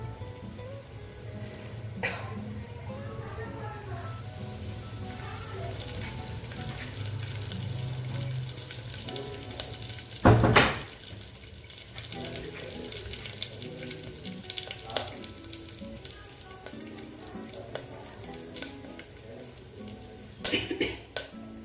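Mustard seeds and curry leaves sizzle in hot oil with a steady frying hiss, a loud sharp crackle burst near the middle and another toward the end, over a low kitchen hum.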